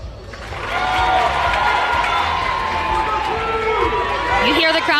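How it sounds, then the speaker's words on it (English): A large crowd at a cheerleading championship cheers and shouts continuously for several seconds, loud and sustained, with overlapping voices and rising excitement near the end. "You hear the crowd get very involved, giving their opinion."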